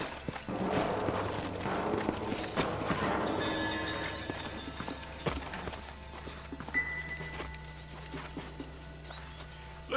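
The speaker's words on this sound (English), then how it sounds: "find a spot for our horses" Horses clip-clop and gallop across the ground in the Red Dead Redemption video game, rhythmic hoof beats loud and close at first, then thinning to scattered steps with a faint whinny amid game ambience.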